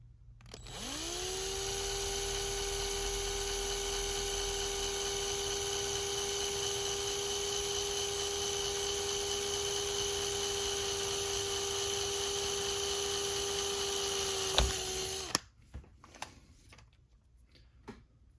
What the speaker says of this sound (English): So we'll just go through this real quickly, drill these out